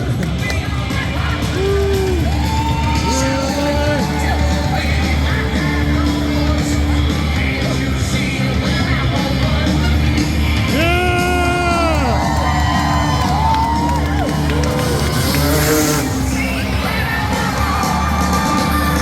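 A crowd at a monster truck show cheers, yells and whoops loudly and without a break, with shouting voices and a commentator's talk mixed into the din throughout.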